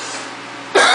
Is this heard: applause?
no